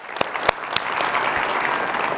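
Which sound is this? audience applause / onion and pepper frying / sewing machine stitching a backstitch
audience applause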